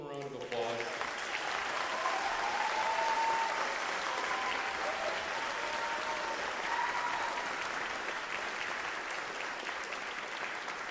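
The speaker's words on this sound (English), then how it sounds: "Could you give them a round of applause?" A middle school camp audience claps steadily after the final concert, with sustained, moderately distant applause that fills the whole stretch and slowly fades toward the end.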